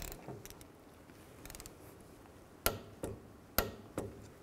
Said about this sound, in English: And then we're going to torque this banjo bolt to 30 foot-pounds.